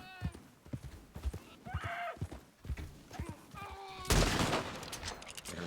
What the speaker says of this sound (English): The gunshot is a little louder than the bolt action.